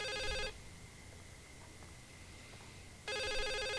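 A brick phone rings in The Suicide of Rachel Foster, loud repeated electronic trilling bursts at the start and end with a quiet room tone gap between them.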